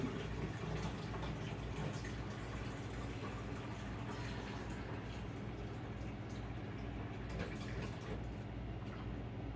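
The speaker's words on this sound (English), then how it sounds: "I'm gonna take a moment and fill this reservoir." Water pours from a kitchen tap to fill a pitcher reservoir, a faint, steady low rush that holds evenly throughout without speech.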